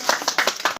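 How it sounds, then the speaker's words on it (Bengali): Brief burst of hands clapping from an audience during a door-to-door political campaign visit, several quick irregular claps over under a second, close and moderately loud, ending abruptly. "কাকার জন্য হাততালি সবার"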